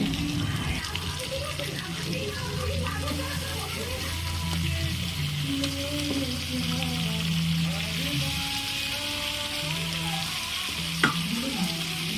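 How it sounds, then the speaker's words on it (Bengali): Chicken pieces sizzle in a pan with deep-browned onions while being stirred, a constant close frying hiss with occasional scrapes, and a voice can be faintly heard underneath. "মাংসগুলো দেওয়ার পরে ভালো করে নাড়তে থাকলাম"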